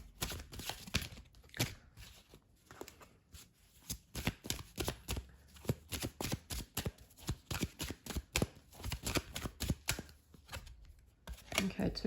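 Tarot cards are shuffled continuously by hand, a dense, close, rhythmic riffle of quick papery slaps and flicks that keeps going without pause, faint overall and with no talking.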